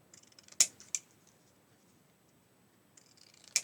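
Scissors snip through layered paper card mats for a gift box bauble, a few sharp close cuts in quick succession, then a quiet pause before more snipping resumes.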